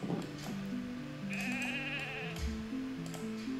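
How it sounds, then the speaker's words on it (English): Sheep in the video game Ultima Online bleat in a wavering, quivering cry over the game's steady background music, with no talk. "There's so many sheep here around you."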